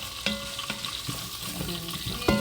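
Rice and vegetables cooking in a pan, stirred with a spoon: a low constant sizzle broken by several distinct scraping and knocking strokes against the pan, close by and without talk.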